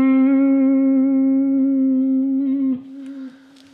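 A single sustained electric guitar note is bent and shaken with an uneven, wobbly vibrato. It holds steady and loud, then drops off abruptly near the end, with no talk over it.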